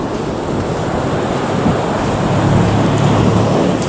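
Wind and surf at the sea on a warm day, a steady broadband roar of gusting air and breaking waves that swells slightly in the second half, loud and continuous with no voices.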